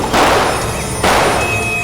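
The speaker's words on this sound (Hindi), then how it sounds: "गोली चलने की आवाज" Two sharp, loud gunshot bursts ring out about a second apart in a TV crime drama, each followed by a brief echoing decay.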